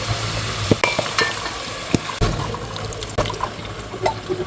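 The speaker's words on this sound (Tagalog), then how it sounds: "Lagay na natin yung ating tomato." Chopped tomato goes into a pan of frying mushrooms, giving a steady sizzle with sharp clicks and scrapes of stirring utensils against the pan, close and alone.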